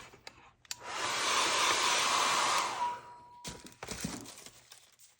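A hand-held hair dryer blows loudly and steadily over a wet mixed media abstract artwork for about two seconds, then cuts off, followed by light handling clunks and rustles nearby.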